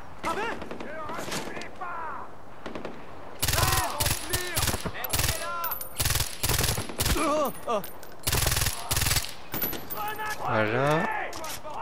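Rapid bursts of automatic gunfire in the Far Cry 4 shooter, loud repeated volleys in clusters between shouted voices and speech, with an explosion-like rush near the end.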